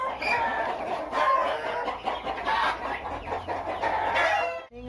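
Country chickens cluck on a free-range poultry farm, several hens calling in quick overlapping bursts with a rooster crowing among them, fairly close against a light outdoor background.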